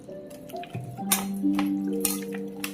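Water trickles and splashes into a pressure cooker pot of chicken biryani masala up close, with a rising pitch as it fills, accompanied by a few clinks.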